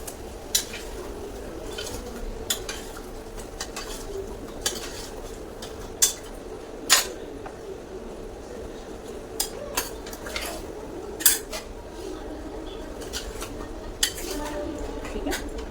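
Chicken for a village-style chicken curry is mixed in a metal pot, with a spoon scraping and stirring continuously and a dozen or so sharp clanks against the pot, close up, with occasional faint speech.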